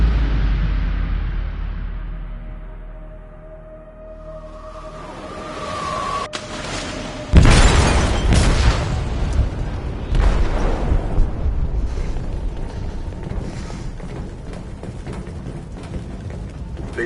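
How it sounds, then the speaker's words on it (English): A video game explosion goes off in a ship's hold as a sudden loud boom after a low rumbling build-up, followed by a long roaring, crackling tail of debris and rushing noise. "They detonated an explosive in the hold."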